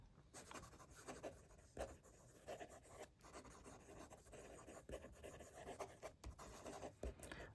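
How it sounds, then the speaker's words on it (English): Benu Cocktail Hour Mojito fountain pen writing quickly on paper, a faint, continuous scratchy rub of the nib with brief pauses between strokes, close and quiet. "Quick writing."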